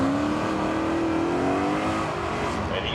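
A race car roars past on the Seekonk Speedway track during spectator drags, its engine loud and close with a steadily rising then falling whine, heard alone without talk.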